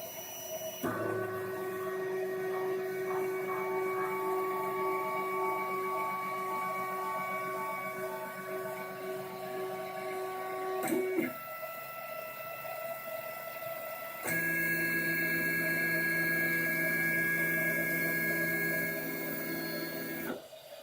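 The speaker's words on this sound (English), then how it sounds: "brought it over to the printer, and we can start printing it now." A 3D printer prints a mirror adaptor for a Nexus 7 tablet, giving a steady whining motor hum with shifting stepper tones that run continuously, close and alone.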